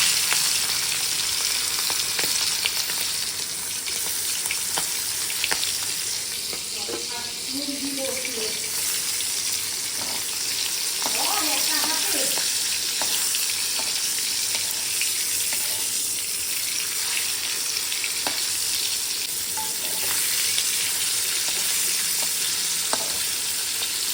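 Shrimp fry in oil in a pan with a constant dense sizzle throughout. A few brief voice fragments sound in the middle, along with faint clinks.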